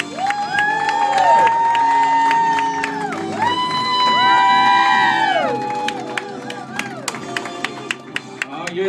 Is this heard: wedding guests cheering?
yes